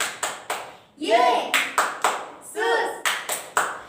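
Children at a Sunday school session clap hands in a quick rhythmic pattern of sharp, evenly spaced claps, broken twice by short sung or chanted voices.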